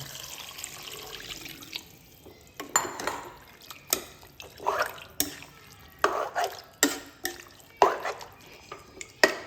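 Second coconut milk is poured into chicken korma as it cooks, with wet splashing and liquid sounds broken by sharp clinks of utensils against the pot, close and fairly quiet.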